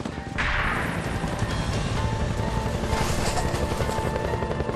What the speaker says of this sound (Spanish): de pronto escuchamos el sonido de un helicóptero